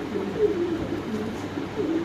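Black Lahori pigeons coo in a short, steady burble, several low rolling calls overlapping close by with no talk.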